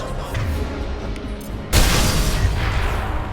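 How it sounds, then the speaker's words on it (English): Overloaded canisters blowing up in the video game Mass Effect 2, a sudden loud boom about halfway through that breaks into a broad rumbling roar over rough background noise from the game. "I'm gonna overload the canisters to clear a path to the shuttles."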